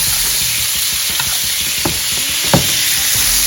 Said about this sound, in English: We're gonna baste the steak so it fast up the cooking process and keep the steak nice and moist.